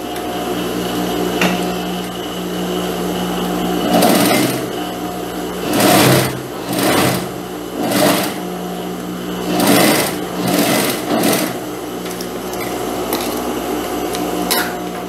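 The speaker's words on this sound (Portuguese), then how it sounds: "também vou passar aqui o pesponto rente" A sewing machine topstitches close along a skirt seam in several short bursts of fast, even stitching, with quieter pauses between runs and no talking.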